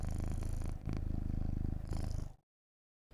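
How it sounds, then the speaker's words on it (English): A cat purrs loudly and close up in a steady rumbling rhythm, with a short pause partway through, then breaks off into near silence before a brief return at the end. "Can you hear her? She's purring."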